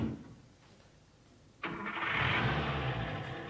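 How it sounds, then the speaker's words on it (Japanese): Theatre sound effect of a car starting, likely played from tape: a quiet lull, then a sudden ignition catch at about 1.6 s into a loud, steady mid-pitched engine run that holds to the end. "自動車が発車する音。"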